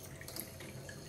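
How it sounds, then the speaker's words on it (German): A thin stream of water runs from a coffee machine into a cup, a steady faint trickle and drip lasting about a second with no talking. "ich lasse was hier in den Becher rauslaufen"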